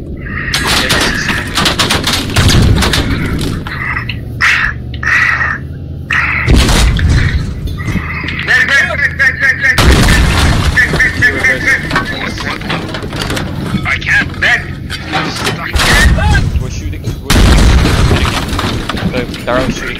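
Gunfire and explosions in the video game Squad during an armour and anti-tank battle: repeated booming blasts and bursts of shots through the whole stretch, loud and close, with players talking over them.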